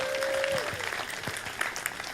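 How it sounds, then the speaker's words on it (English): Brief applause from a cruise ship game show audience, scattered clapping at moderate level following a short tone, with a murmur of crowd noise underneath. "How about a round of applause?"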